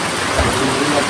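Rain falling, heard as a loud, steady broadband hiss that continues without a break through the short moment.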